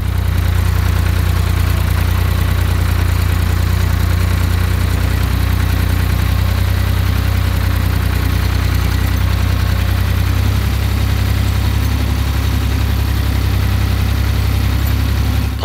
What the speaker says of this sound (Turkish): Hakkari'li çiftçiler topladıkları bu otları şimdi patoz makinesine veriyor.